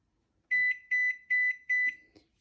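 A microwave oven set to full power gives four short, clear electronic beeps in an even rhythm, close and moderately loud, followed by faint handling clicks.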